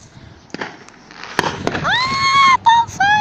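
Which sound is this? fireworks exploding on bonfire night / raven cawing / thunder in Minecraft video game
fireworks exploding on bonfire night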